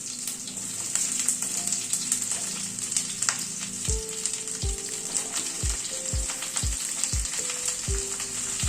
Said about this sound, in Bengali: প্রথমে পটলটা দিয়ে দিলাম, এক এক করে সব সবজিগুলোই অ্যাড করে দিচ্ছি